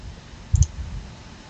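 A computer mouse button gives a single sharp double-tick click, close and alone against a faint background hum.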